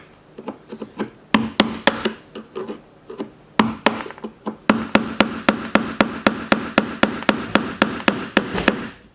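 Sharp hammer taps on the small nails holding the locks of a little cardboard-covered doll trunk, struck in irregular bursts then a steady run of about fifteen close, loud blows with no talk.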